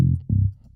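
Synthesized bass note pitched at C0, played legato to fill a one-bar loop: two deep sustained tones, the second starting just before the midpoint, loud and alone before fading quickly.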